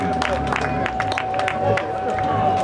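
Crowd applause and cheering for rally drivers Raffaele Ferrara and Domenico Murino at the 16th Slalom Città di Avola 2024, steady and dense throughout with a babble of voices mixed in and no clear speech.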